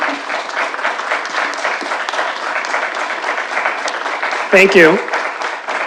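Applause from members of the public at a city council protective services committee meeting, a steady broad clatter of clapping running throughout with a spoken voice rising briefly over it near the end.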